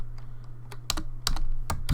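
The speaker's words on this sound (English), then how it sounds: "my typing is really weird today." A computer keyboard is typed on in a few scattered, crisp key clicks, close and fairly loud over a low steady hum.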